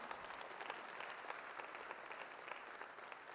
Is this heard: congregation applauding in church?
yes